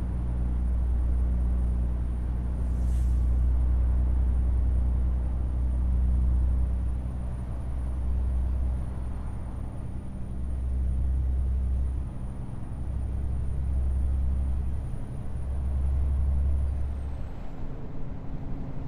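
Heavy truck engine from Euro Truck Simulator 2, a deep steady rumble that swells and dips as the truck drives, with a short hiss of air brakes early on, close and continuous with no talking.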